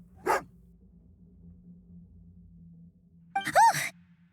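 A short breathy snort, a low hum, and then a brief, harsh, tonal growl-bark from a dog in the video game Genshin Impact, close and fairly loud.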